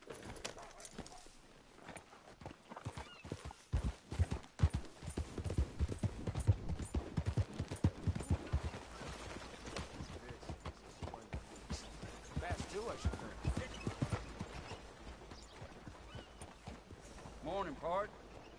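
Steady clip-clopping hooves from a horse in Red Dead Redemption, running throughout with music and talk layered over it.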